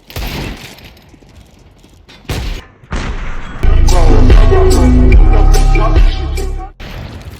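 Counter-Strike 2 gunfire crackles in short bursts, then heavy rapid firing and booming blasts build to a loud, sustained barrage before fading out.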